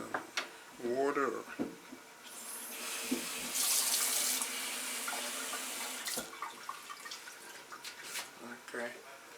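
A kitchen tap runs water into a pot for yellow split pea vegetable soup, a steady rushing pour lasting a few seconds between clinks and handling sounds, with a voice speaking at moments.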